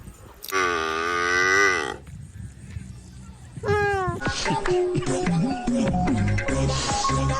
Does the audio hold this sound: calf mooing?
yes